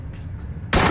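A quiet stretch gives way to a sudden loud burst of gunfire aimed at a van in the PUBG video game, cutting in sharply near the end.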